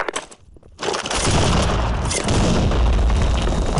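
In a first-person shooter game, a booming grenade explosion lands after a brief lull, then a dense, loud rattle of continuous gunfire follows, with no voices over it.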